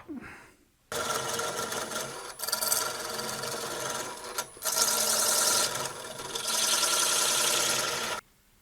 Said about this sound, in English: I'm just going to go ahead and use the parting tool.